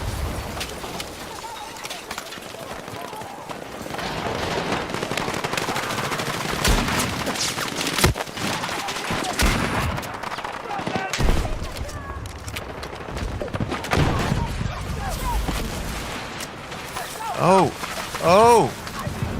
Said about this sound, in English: Let's all shoot the vehicle.